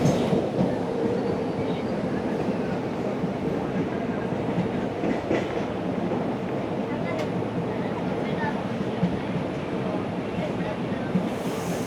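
Passenger train in Kerala rolling steadily on rails, a continuous close rumble with rattling carriage noise throughout, and a voice talking faintly underneath.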